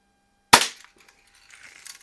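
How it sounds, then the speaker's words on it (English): A 1947-49 Daisy Red Ryder model 111 BB gun fires once at a target in a garage, a single sharp close crack followed by a brief faint patter and quiet. "let's get to doing some shooting"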